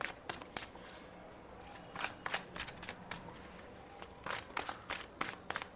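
Tarot cards shuffled by hand in a steady run of crisp riffling bursts, close and moderately loud, with no talking over them.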